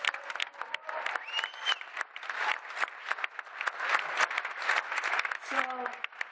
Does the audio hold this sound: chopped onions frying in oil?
no